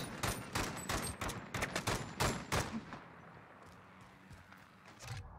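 Rapid gunfire in the video game Call of Duty Modern Warfare, a dense burst of sharp close shots for a few seconds that trails off into quieter game ambience.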